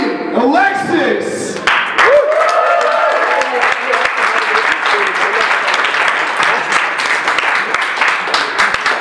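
A crowd at a weighted calisthenics competition in Zürich breaks into sustained, loud applause and cheering, a dense steady wash of clapping with voices mixed in at the start.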